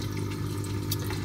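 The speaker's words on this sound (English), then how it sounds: "It's a bit loud at the moment because of the skimmer and return pump." Steady watery rush and trickle of a saltwater aquarium's protein skimmer and return pump running continuously, with faint drips and bubbling close by.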